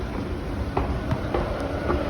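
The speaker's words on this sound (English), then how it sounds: "I can hear a train coming" A train approaches on the rails, a low rumble with faint clicks building under steady outdoor ambience.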